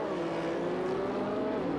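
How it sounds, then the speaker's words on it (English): A drag race roars past: a six-cylinder roadster running against a dragster in the Competition Eliminator final at the 1978 NHRA Gatornationals, with a loud, sustained engine drone filling the brief moment. "The 6-cylinder roadster of Joe Williamson against the dragster of John"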